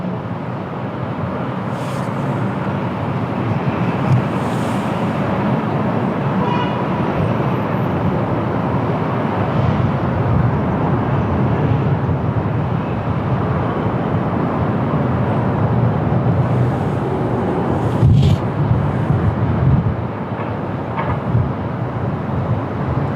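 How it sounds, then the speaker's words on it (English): Air Serbia Airbus A320-200 jet on its takeoff roll at windy Lisbon Airport, a steady, loud broadband engine roar sustained without a break, with wind buffeting the microphone throughout. "Air Serbia clear to take off, Airbus A320-200."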